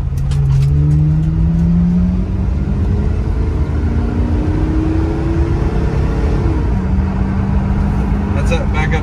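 A 1975 Oldsmobile Cutlass Salon with a 350 V8 and automatic, heard from inside as it drives through a U-turn, engine note rising and falling with a low steady drone, plus faint tire and cabin noise.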